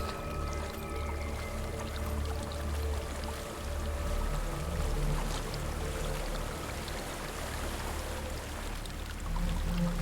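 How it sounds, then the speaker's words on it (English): Waterfall in the video game Hellblade, a steady broadband rush of falling water that holds an even level throughout, with a low rumble underneath. "There's a waterfall."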